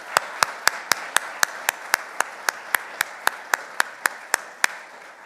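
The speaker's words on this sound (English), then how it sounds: "one more round of applause for our new police officers and detention officer" Applause for newly sworn police officers and a detention officer at a police swearing-in ceremony, led by one loud, evenly spaced clapper near the microphone, about four claps a second, over a soft background of crowd clapping.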